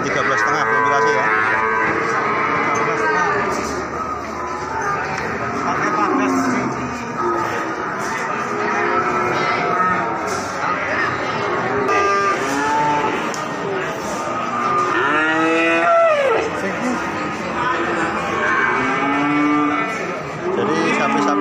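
Cattle low and moo repeatedly at the Ambarawa livestock market in Indonesia, several animals calling close by over a constant busy crowd murmur with people talking throughout.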